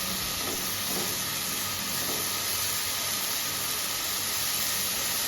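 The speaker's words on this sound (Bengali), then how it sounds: "সবজিগুলো ভালোভাবে ভাজা হয়ে এসেছে প্রায়" Vegetables for Maggi noodles fry in a pan with a steady, close sizzle and hiss, a few faint stirring scrapes breaking through; no voices.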